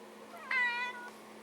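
A single cat gives one clear, fairly close meow, rising and falling over about half a second, over a faint steady background hum and with no talking.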